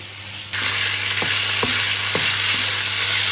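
A steady loud sizzle of broccoli frying in a pan starts suddenly, with a few soft scraping stirs and no voices.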